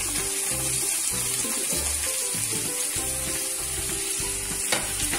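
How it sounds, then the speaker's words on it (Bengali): Pieces of eggplant and pumpkin sizzle in hot oil in a pan for a Bengali prawn and vegetable curry, a steady loud frying hiss with a low rhythmic scraping of stirring throughout, no voices. "এবার আমি এখানে প্রথমে বেগুনের টুকরোগুলোকে দিয়ে দিলাম। তারপর কুমড়োটা দিলাম"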